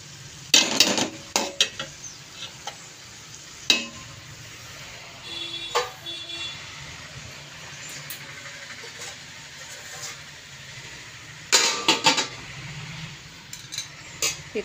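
Curry being stirred in a pan over lunch cooking: soft scraping and clinking of a spoon against the pan in scattered bursts over a faint low sizzle, close and fairly quiet.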